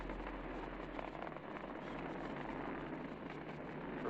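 A SpaceX Falcon 9 rocket in flight, its Merlin 1D engines throttled down before maximum dynamic pressure, heard as a steady, distant broadband roar with a low rumbling floor, faint and unbroken throughout.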